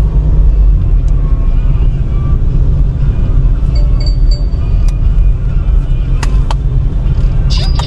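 Steady loud low rumble from inside a car crawling through heavy traffic in Pasig, Philippines, with engine and road noise throughout and a few faint clicks near the end.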